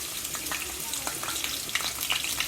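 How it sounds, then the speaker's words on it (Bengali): Chopped onion frying in hot oil, a dense close sizzle with quick crackles and spits that carry on evenly, with no voices over it. "তেল গরম হয়ে গিয়েছে, এখন পেঁয়াজ কুচি দিয়ে"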